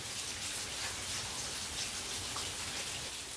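Rain falls steadily on a very rainy day in Phoenix, Arizona, a continuous close patter and hiss with no voices.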